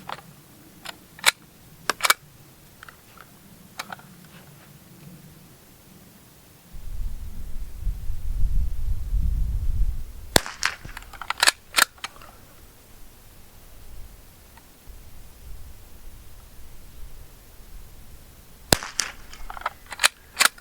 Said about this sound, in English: we'll go ahead and see if I can't hit the target on these next 5 shots